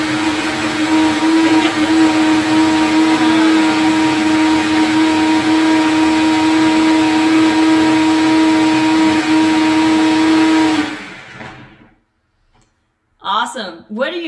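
A Vitamix blender whirs loudly and steadily, blending a spicy ginger almond dressing for kale chips, then cuts off; a brief voice follows after a short pause.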